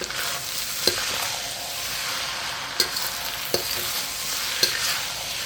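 Thai fried rice with pineapple being stir-fried in a pan, a steady sizzle punctuated by four sharp spatula scrapes and knocks at uneven intervals, close and fairly loud with no voices.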